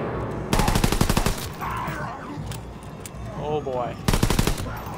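Bursts of rapid machine-gun fire in Call of Duty WW2 zombies mode, one long rattling volley near the start and a shorter one at the end, with game ambience and a brief spoken exclamation in between.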